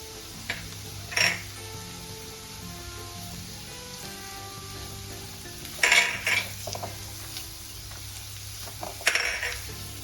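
A spoonful of refined flour and sautéed vegetables roast in a pan for white sauce pasta, giving a soft steady sizzle with occasional metallic clinks and scrapes of a utensil against the pan, close and without talk.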